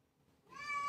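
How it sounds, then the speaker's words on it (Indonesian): Pet cat meowing for food indoors, a single rising meow that swells from near silence to a clear, fairly close cry at the end. "aduh maaf ya kucing saya ngomong"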